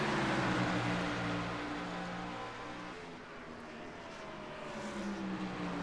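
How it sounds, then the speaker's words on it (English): Xfinity race car in a racing video game braking hard at the Charlotte Roval, its engine note dropping with harmonic whine while spent fuel pops and crackles through the exhaust, loud and close throughout. "You hear the popping of the exhaust on spent fuel getting burned"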